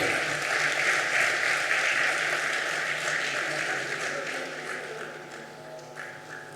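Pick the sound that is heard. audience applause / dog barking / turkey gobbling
audience applause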